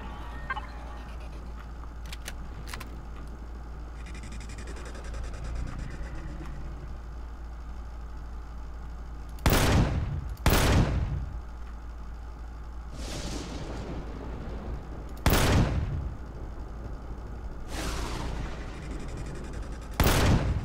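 Turret gunfire in the sci-fi survival game Empyrion Galactic Survival: about six sharp, loud shots crack out at irregular intervals over a steady low ambient hum, with no talking.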